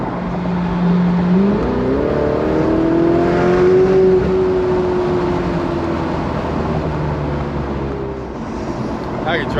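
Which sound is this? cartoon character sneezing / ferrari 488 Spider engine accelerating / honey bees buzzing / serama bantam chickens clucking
ferrari 488 Spider engine accelerating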